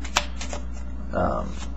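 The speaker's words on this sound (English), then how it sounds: "you can give the false overhand shuffle and go like that" Playing cards riffle softly in a false overhand shuffle, a few brief papery bursts with a longer rustle near the end, close and quiet.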